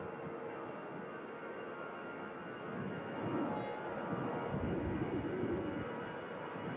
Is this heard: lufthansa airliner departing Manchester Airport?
yes